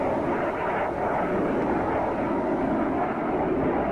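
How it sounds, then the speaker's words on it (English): An aircraft flies overhead in a naval warfare video game set in a 2002 Russian campaign with the carrier Kuznetsov, a steady, loud engine roar droning continuously with no talking over it. "Con, Lyco, aircraft returning to base."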